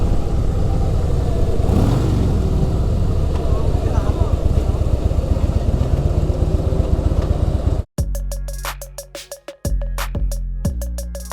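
A motorcycle rides up a monsoon-season ghat road in Kerala, its engine droning steadily and close for most of the stretch before an abrupt cut to sharper, choppier engine bursts with gaps between them.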